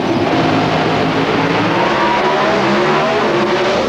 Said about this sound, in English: They have about 900 brake horsepower from these engines.